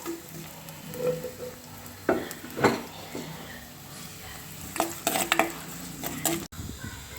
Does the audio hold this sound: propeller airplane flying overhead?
no